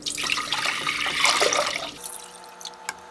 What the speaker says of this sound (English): So first we're going to add 6 cups of water.